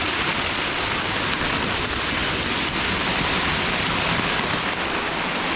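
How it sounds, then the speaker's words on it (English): Golf-ball-sized hail pounds a garage roof in a dense, loud, unbroken roar of impacts that holds steady throughout, with no voices. "Look at this hail going mad down here."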